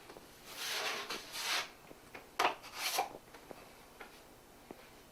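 Blade squeegeeing patch compound across a door knob hole patch, with a few close, soft scraping strokes in short bursts separated by quiet pauses.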